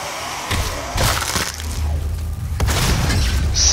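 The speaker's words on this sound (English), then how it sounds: "Explosion." Explosion in the video game Doom, a heavy, crackling blast with shattering debris and a low, rumbling tail, loud and sustained with several crunching bursts.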